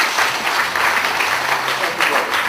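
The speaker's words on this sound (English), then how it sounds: "So give him another round of applause." An audience claps in a sustained, dense round of applause at moderate loudness, with a few heavier bursts near the end.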